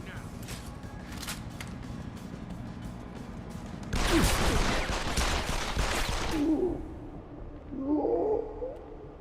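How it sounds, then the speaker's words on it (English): Gunfire in the video game Deus Ex: Human Revolution, a loud two-second burst of rapid crackling shots followed by scattered clanks and metallic impacts over steady game ambience. "Fucking gunshots! Try to get me"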